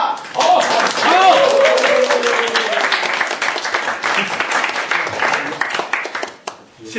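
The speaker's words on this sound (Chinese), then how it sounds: "让我们再次以热烈的掌声，向我们两位见义勇为、勇气战斗的英雄表示热烈的祝贺" Warm, sustained applause from a crowd of students in a class activity room, loud and close. It fades over several seconds, with voices calling out over the clapping.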